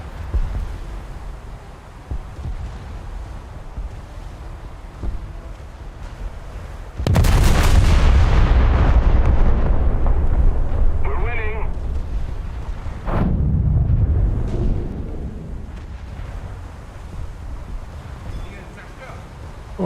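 The ship Baden's turrets fire in a naval video game: two heavy, booming artillery salvos, about six seconds apart, rise above a low ambient hum, and each blast rolls into a long rumbling decay.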